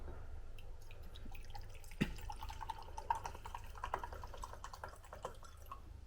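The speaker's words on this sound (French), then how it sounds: "je rajoute de l'eau en grande quantité" Water is poured in large quantity into a strong acid in a lab beaker for dilution, a faint trickling pour with small drips and splashes and a soft clink, heard alone and close.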